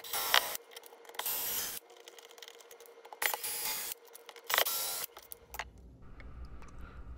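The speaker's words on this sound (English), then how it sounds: "First thing I'm going to do is cut the extenders to the required length." Outlet box extenders being cut to length with a hand tool, several bursts of rough rasping and sawing strokes separated by short pauses, close and fairly quiet with no talk.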